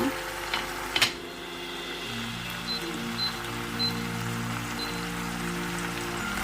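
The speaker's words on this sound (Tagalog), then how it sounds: "Sa halu-haluin po, hanggang maging brown din at maluto-luto na siya." Pork frying with tomatoes in a pan, a soft steady sizzle with a few clinks and scrapes of stirring near the start, quiet and continuous throughout.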